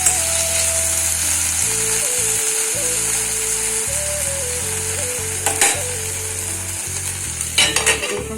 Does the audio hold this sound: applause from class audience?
no